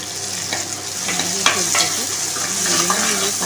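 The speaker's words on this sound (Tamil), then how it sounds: "பச்சை வாடை போகிற அளவுக்கு நல்லா வதக்கலாம்" Ingredients with turmeric powder are sautéed in a pan for sankara fish curry, a loud, steady sizzle broken by a few sharp scraping stirs from a spoon.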